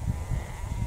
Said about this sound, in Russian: Вот овечки прошли.